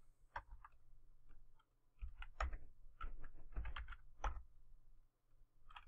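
A username and password are typed on a computer keyboard: close, irregular bursts of clicking keystrokes with a brief pause partway through.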